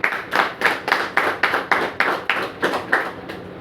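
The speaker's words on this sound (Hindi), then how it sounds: "तो एक बार आरसीएम सिस्टम के लिए जोरदार तालियां।" A seminar audience in Delhi claps together in a strong, even rhythm, about three crisp claps a second, close and loud, with no one talking over it.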